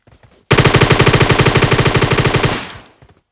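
Loud, close automatic gunfire in PUBG Mobile: a rapid, evenly spaced burst of around twenty-five shots lasting two seconds, trailing off, with a few faint shots before it.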